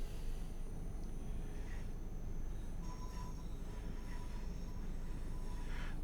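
Electric train running on the West Coast Main Line in Train Sim World 5, a steady low rumble of wheels on rails with faint squealing and whining motor tones, continuous and fairly quiet throughout.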